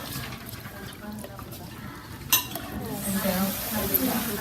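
A spoon scrapes and swirls through cream of mushroom soup with whipping cream and chopped dill in a pot, giving soft clinks and sloshing, with a faint sizzle underneath and a sharper knock partway through.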